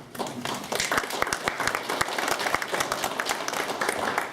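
Audience applause after a talk on Chinese railroad workers in America, a steady burst of many hands clapping in a hall, moderately loud and continuous throughout.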